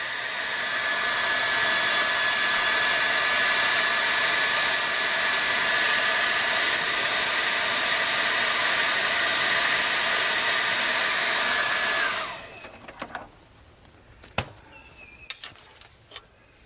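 A hair dryer blows steadily and loudly for about twelve seconds while heating brittle plastic trim on a 20-year-old truck, then cuts off, leaving a few faint clicks and knocks.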